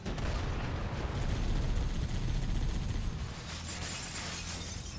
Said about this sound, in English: On that bridge, the glass makes breaking noise, but doesn't actually break